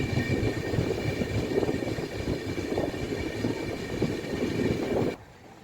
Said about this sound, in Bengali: 12301 হাওড়া নিউ দিল্লি রাজধানী এক্সপ্রেস ধরে আমরা চললাম দিল্লির উদ্দেশ্যে